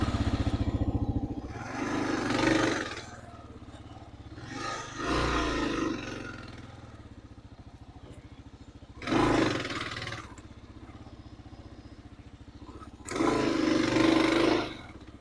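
Adventure motorcycle working up and down a hillside off road, its engine revving in four separate rising bursts with quieter idling stretches between, close by.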